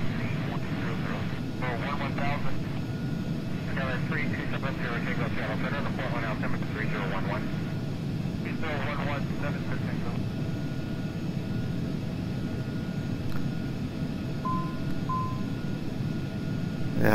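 A Cessna Citation II jet in the Carenado flight simulator game, engines droning steadily as power is brought up, with someone talking over the first part and faint cockpit tones later.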